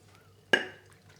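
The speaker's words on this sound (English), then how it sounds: "A good hot stir to mix the lemon" A single metallic clink of a spoon against a pot as hot soup with lemon is stirred, sharp and close, with a brief ringing tail in an otherwise quiet kitchen.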